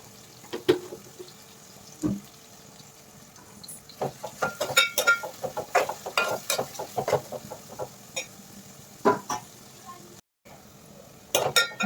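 Onions fry with turmeric in a pan, giving a low sizzle under irregular scraping and stirring clatters of a utensil against the pan, close and moderately loud, with a short silent gap near the end.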